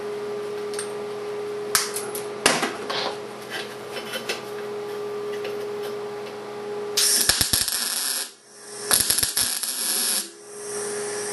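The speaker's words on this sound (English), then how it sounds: "A bit of scrap here. We'll weld that to it." An R-Tech Pro-MIG250 MIG welder on a 30 amp supply with 0.8 wire tacks scrap onto coated metal: two short bursts of loud crackling arc over a low steady hum, with brief clanks before.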